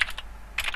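Typing on a computer keyboard, with a few quick close clicks at the start and another short cluster at the end, separated by a quiet gap.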